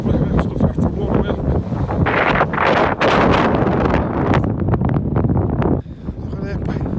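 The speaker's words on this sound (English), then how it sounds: "The wind, say lads, it's fairly windy." Strong wind on the Wild Atlantic Way in Ireland buffets the microphone in loud, gusty roars. Someone talks over it, and the blustering drops away abruptly near the end.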